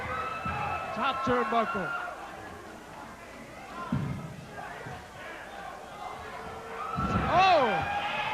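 Arena crowd at a UWF professional wrestling match roars and cheers in swelling waves, loud under continuous commentary, with a sharp surge near the end.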